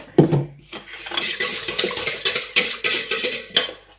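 Flour and salt are stirred together for pizza dough, with steady scraping and rustling against a bowl and occasional sharp clinks of a utensil, close and continuous.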